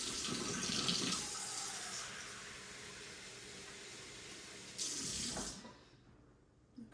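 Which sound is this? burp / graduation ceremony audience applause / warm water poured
warm water poured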